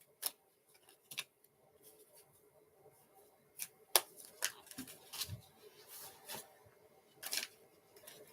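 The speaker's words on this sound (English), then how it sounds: "I got to get used to shuffling sideways with this deck." Tarot card deck being shuffled sideways during a live reading, sparse quiet riffles and soft card slaps in irregular bursts, close to the microphone with no talking.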